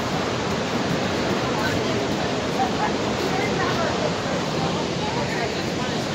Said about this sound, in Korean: 정말 멋진 풍경을 연출하고 있는 목모랑시 폭포공원의 멋진 폭포입니다.